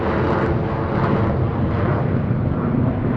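Recorded aeroplane flyover, a broad steady roar of a fixed-wing aircraft holding loud and even across the whole stretch with no voices over it.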